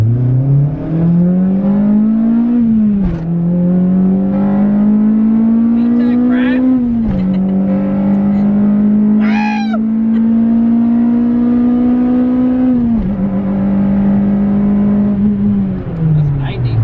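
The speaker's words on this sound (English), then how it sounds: "that no muffler is fucking annoying" A loud, raspy Acura RSX engine with no muffler drones and revs repeatedly, pitch climbing then dropping between gear changes, with brief voices over it.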